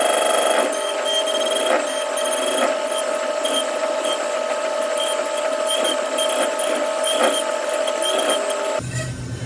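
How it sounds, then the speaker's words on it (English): A CNC mill roughs 8620 steel with a 3/8-inch five-flute end mill, a loud steady high-pitched cutting whine with rhythmic tonal pulses repeating through the pass, then a sudden change near the end. "Next up's a 3/8 5-flute end mill. I believe this is running 850 surface footage and 5 thou per tooth with a 40 thou step over."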